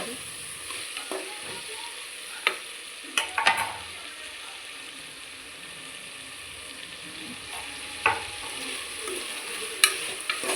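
Diced carrots, beans, tomato and potato cook quietly in a pan under a soft background hiss, with a few scattered clinks and scrapes of a spoon stirring.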